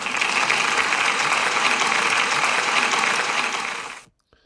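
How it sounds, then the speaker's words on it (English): A classroom applauds a student receiving an award, a steady, dense burst of clapping that holds at an even level for about four seconds and then cuts off abruptly. "can we give Desmond a big round of applause"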